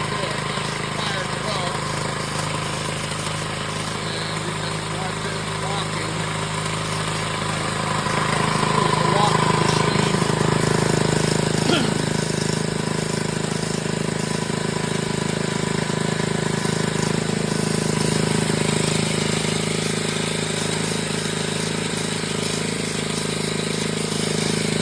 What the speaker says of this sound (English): Got a little engine here. And let me see if I can fire this thing up.